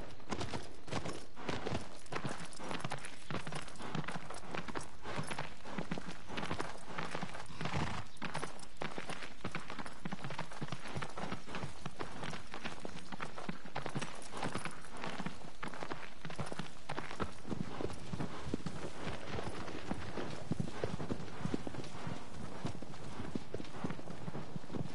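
Horse hooves clip-clop steadily across the 25 seconds in the video game Shadow of the Colossus, a dense continuous rhythm of galloping footfalls over a constant background.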